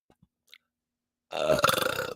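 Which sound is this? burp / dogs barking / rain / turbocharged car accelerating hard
burp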